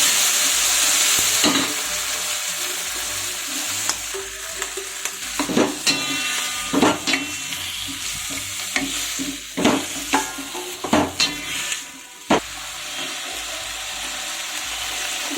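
Tomatoes fry in hot oil tempered with panch phoron while being stirred, with a steady close sizzle broken by scraping stirs and small clatters, loud and with no talking.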